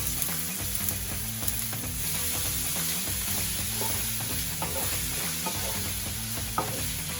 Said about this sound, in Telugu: దీన్ని లైట్ బ్రౌన్ కలర్ వచ్చే వరకు కూడా మనం ఫ్రై చేసుకుందాం.